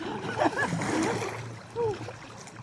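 People jump into a river, sending up splashes of water amid excited voices, with short watery bursts and gurgles close by under the chatter.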